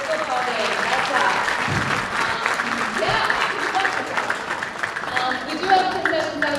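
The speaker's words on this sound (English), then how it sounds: "Give yourselves a round of applause if you donated." An audience at an All City Band concert night applauds for themselves, giving a sustained, fairly loud round of clapping with a few low thumps and murmurs mixed into the crowd noise.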